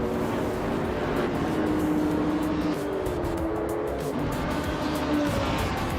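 Modern street cars such as a Lotus Evora, a Ferrari, BMWs, Mercedes and Toyotas race around a track in a racing game, engines droning and whining steadily with tones rising and falling as they shift, a continuous dense roar.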